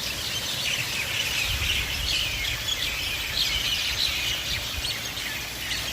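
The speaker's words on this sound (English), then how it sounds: "there are thousands of birds live in these trees, along with their friends," Thousands of birds, crows among them, calling from a stand of trees on Maui: a dense, continuous chorus of overlapping chirps and calls from some distance, steady with no talk.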